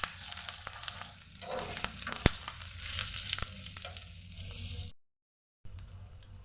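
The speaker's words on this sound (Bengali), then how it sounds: "আদাটা একটু ভেজে নিচ্ছি।" Grated ginger sizzles in a hot pan for a Bengali banana-flower curry, a steady frying crackle with stirring scrapes and a sharp clink, cutting out briefly near the end.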